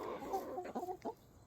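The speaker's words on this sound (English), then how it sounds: "I'm so glad I got these chickens." Backyard chickens cluck in the morning sunlight, a few soft, close clucks and murmurs in quick succession over a quiet outdoor background.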